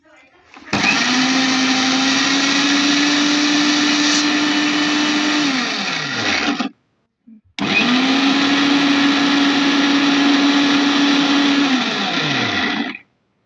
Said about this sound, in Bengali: এবার এটাকে ভালো করে ব্লেন্ড করে নেব।